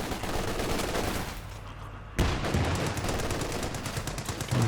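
Machine gun fire in a Company of Heroes 2 multiplayer battle: dense, continuous rattling bursts with a sharp loud crack near the middle and sustained gunfire after it.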